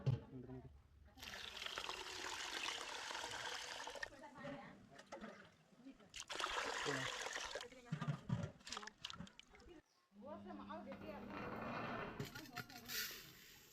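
Water pours and trickles over sorghum grains in a container, set to soak for dosa batter, in several gurgling bursts with splashy pauses between them, fairly quiet.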